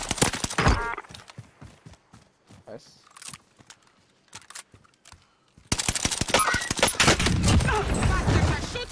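Enemy gunfire in the video game Warzone: a rapid string of sharp shots cracks through a quieter stretch, then gives way to a dense loud barrage of fire mixed with voices.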